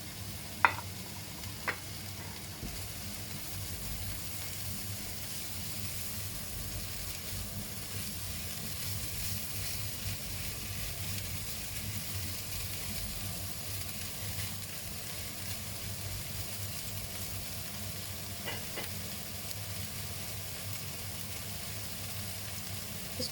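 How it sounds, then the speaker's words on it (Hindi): Capsicum and cabbage frying in a pan, a soft steady sizzle with faint low hum running evenly throughout, two small clicks near the start and one later. "इसको थोड़ा सा फ्राई करना है"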